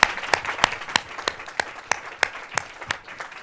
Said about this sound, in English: So let's have a round of applause for our panelists.